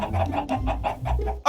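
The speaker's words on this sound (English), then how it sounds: "I made a little chicken coop and showed them their new home." Minecraft chickens cluck near a small coop in the video game, a quick run of short rhythmic clucks in steady succession, loud and close, ending with a sharp burst.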